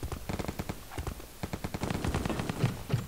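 Rapid automatic gunfire in a shooter video game, fired at bots in quick, dense bursts of sharp shots that run close and loud for the whole stretch.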